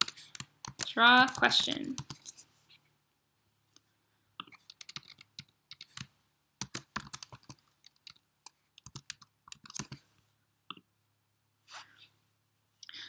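Code being typed on a computer keyboard in short bursts of quiet clicking, with pauses between and a voice talking over parts of it.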